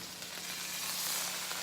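Bacon and egg frying in a pan for a breakfast sandwich, a quiet, steady hiss and crackle of sizzling fat, no voices.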